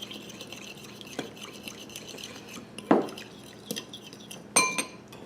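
Lemon pepper being stirred into melted butter, with a steady swirling scrape and a few sharp clinks of the spoon against the pan.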